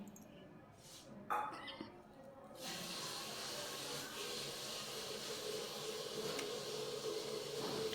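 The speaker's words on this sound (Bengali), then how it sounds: "মা গরম জল বসাচ্ছে জল পড়ছে আওয়াজ পাচ্ছ" Water pours with a steady rushing hiss while water heats on a stove at home, starting after a few quiet seconds with a clink and a person briefly talking, then running continuously at a moderate level.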